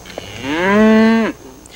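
A ranch cow in the Mount St. Helens ashfall region gives one long, loud, close-up moo that swells and cuts off sharply, with faint background noise and no speech.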